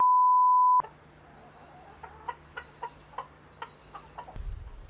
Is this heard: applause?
no